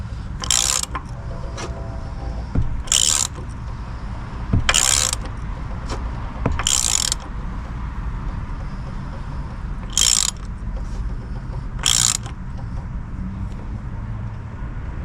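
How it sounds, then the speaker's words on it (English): A ratchet driving a 1-inch deep socket snugs down an anti drain back valve on a Chrysler 3.6L Pentastar engine, close and loud, in six short separate bursts of rapid clicking with quiet pauses between them. "with a 1-inch deep socket, we can tighten this up the rest of the way."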